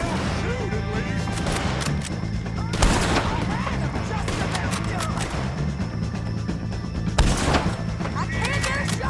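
Sustained gunfire rattles through a Red Dead Redemption 2 shootout, dense rapid shots with a couple of heavier bursts standing out, while voices shout over the fighting.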